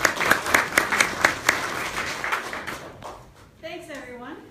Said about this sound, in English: Let's give a big round of applause to Kathy.